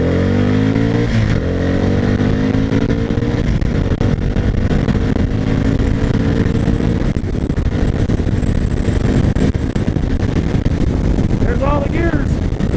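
A 1999 Kawasaki Vulcan 750 motorcycle accelerates through the gears, its engine climbing and dropping with each shift, loud and steady for several seconds, with a brief voice near the end.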